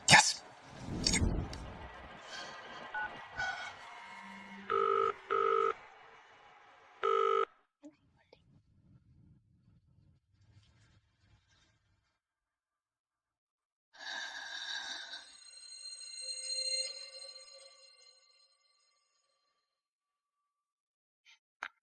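A telephone ringtone plays for a few seconds, a clear melodic electronic ring heard alone after a stretch of voices and rustling.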